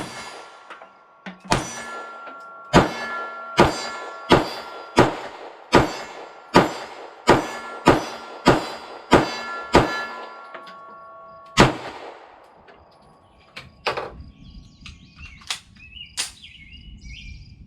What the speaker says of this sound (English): So let's see if I can hit the top stem part with my first shot